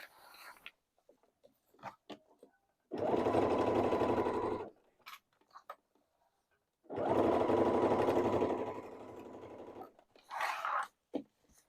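Sewing machine stitching the waistband of faux leather pants, with two sustained bursts of fast, loud, close stitching separated by quiet pauses, small handling clicks, and fabric shuffling.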